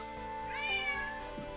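A cat gives a single drawn-out meow, close and clear, rising and then falling in pitch against a quiet indoor background.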